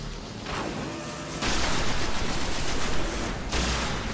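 A fusion rifle fires in the video game Destiny, dense crackling bursts of energy fire filling the clip, with a louder sustained volley in the middle.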